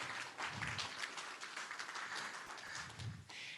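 A small in-person group at a Friday-morning meetup gives fairly faint, scattered clapping that swells and settles over a few seconds.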